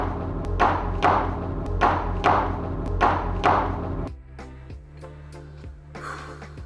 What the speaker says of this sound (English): You hear it thudding against it as you're pulling.